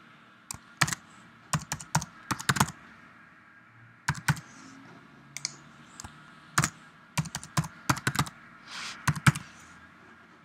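Keys on a computer keyboard are tapped in quick clusters of clicks with short pauses between, close and fairly quiet, as a password is typed, with no talking.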